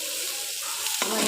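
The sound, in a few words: fish frying in a pan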